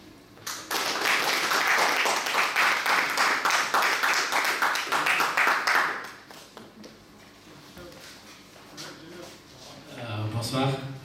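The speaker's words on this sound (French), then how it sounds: "Un maximum d'applaudissements pour Fayad." Dense applause from a crowd for several seconds, then fading into scattered claps and room noise, with a voice speaking near the end.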